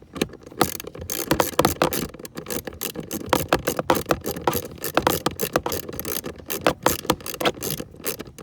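Ratchet clicks in rapid bursts as screws are driven back in during a dashboard repair on a 2004 Honda Odyssey, close and fairly loud with no talking.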